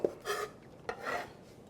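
A spoon scrapes ginger scallion oil from a pan into a bowl in two short rasping strokes, each starting with a light metallic tap, close and clear with nothing else heard.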